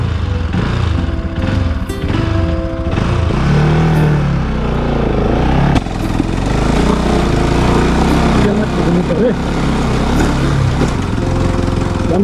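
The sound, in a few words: vehicle engine running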